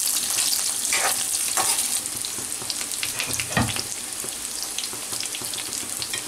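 Eggs are lightly frying in hot oil for a steamed egg curry, giving a steady crackling sizzle. Occasional stirring scrapes and a louder thump of the pan sound through it.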